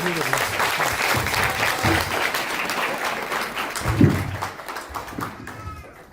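Worshippers at a Friday church service give a loud round of applause to welcome a preacher. Many hands clap in a dense wash with a louder burst near four seconds, then it fades out and voices murmur underneath.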